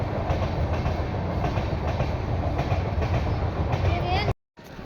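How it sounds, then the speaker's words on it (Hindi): A train rolls past nearby in Ayodhya, a dense steady rumble with rhythmic rail clatter that cuts off abruptly near the end, no one speaking. "यहाँ से ट्रेन भी जा रही है"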